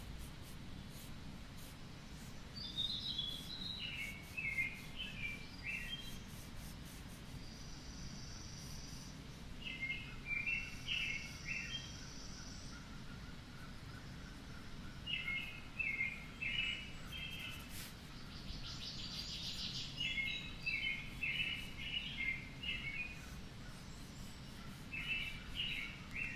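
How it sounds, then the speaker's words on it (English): Crows call outside a studio in short, repeated bursts of cawing spread across the span, fairly faint and distant over a steady low background hum, with no talk. "those are real crows outside my studio."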